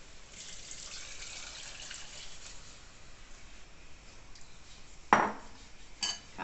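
A spoon stirs an onion cream mixture thinned with chicken broth in a cooking pot, giving a couple of sharp metallic clinks near the end over a low, steady kitchen background with no talking.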